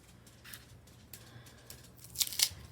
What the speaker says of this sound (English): I'm going to put a piece of packaging tape over that